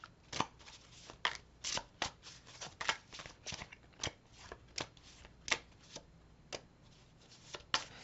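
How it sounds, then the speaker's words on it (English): Tarot cards shuffled by hand, quiet riffling snaps and soft slaps in an uneven rhythm of short bursts, close and fairly faint, with no talking. "That was kind of a strange shuffle, wasn't it?"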